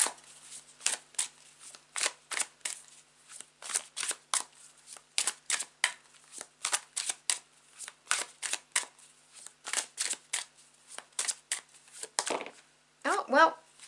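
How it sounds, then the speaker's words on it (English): Tarot cards being shuffled by hand, a long run of crisp riffling flicks in uneven bursts, close and fairly quiet, ending with a short flurry of sharper slaps, with no talking over it. "taking a couple of deep breaths and relaxing whilst I shuffle the cards"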